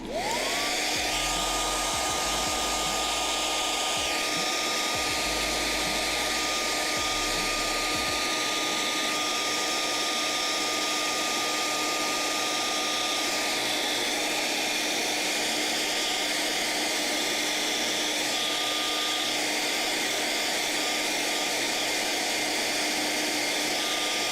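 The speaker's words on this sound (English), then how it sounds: "hairdryer time" A hair dryer runs continuously in a workshop during a puppet build, a loud, steady whooshing whine with a sustained tone, and a low thumping in the first few seconds before the airflow settles into an unbroken roar.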